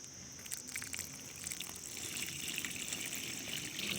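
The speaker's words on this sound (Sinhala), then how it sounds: "අපි වතුර ටික හිමීට දාගමු." Water trickles slowly and faintly into a small pond dug out, lined with clay and covered with a plastic sheet, making a soft, continuous dribble with light splashes that builds a little as the flow goes on.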